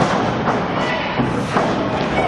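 A wrestler's body crashing onto the mat in a wrestling ring, heavy thuds under a loud, constant crowd roar.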